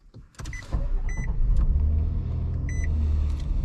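A 2024 Nissan Frontier SV Hardbody pickup setting off on a test drive: a few interior clicks, soft chime beeps, then the engine turning over and settling into a low, steady rumble heard from inside the cab.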